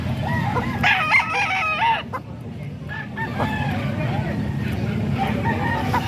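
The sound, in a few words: chicken (rooster) crowing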